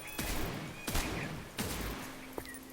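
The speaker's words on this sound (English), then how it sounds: "You just have to shoot him until he drops stuff." Gunfire in the video game The Incredible Adventures of Van Helsing Final Cut as the player shoots a domovoy: several sharp, loud blasts spaced under a second apart, ringing over a dense, noisy game background with no talk.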